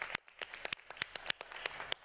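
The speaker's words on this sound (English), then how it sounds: "let's give Regina a round of applause" A meeting audience claps for a colleague being thanked, a short burst of applause with sharp, uneven hand claps over about two seconds, moderately close and without talk.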